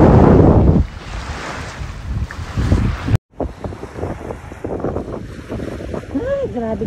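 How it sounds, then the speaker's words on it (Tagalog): Strong wind buffets the microphone beside the sea, with roaring gusts and crashing surf throughout; a brief dropout splits the rush, and a voice speaks faintly under the noise near the end. "Grabe din ito sa mga hangin,"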